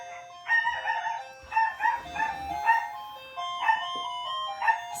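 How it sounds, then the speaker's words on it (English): A doorbell chime plays in a repeated melodic pattern indoors. A dog's barks mix in alongside the ringing, moderately loud throughout. "that's my doorbell and then my dog"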